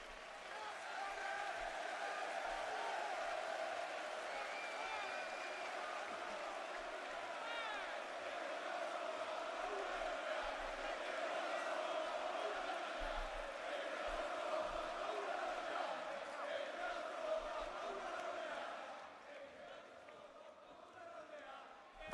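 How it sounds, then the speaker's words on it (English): A broad, steady roar from a wrestling arena crowd in a WWE video game holds loud for most of the stretch, then drops off sharply near the end. "Crowd is loud."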